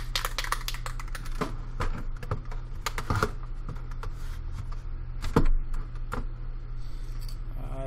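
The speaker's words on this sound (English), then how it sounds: "I touched my keyboard." Typing on a computer keyboard, a close, continuous patter of key clicks with irregular bursts and louder strikes, with no talk over it.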